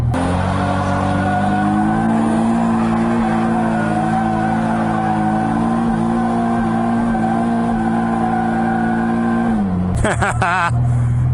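A car engine roars steadily at high revs with droning tire noise as it slides, then a sharp burst of tire squeal near the end.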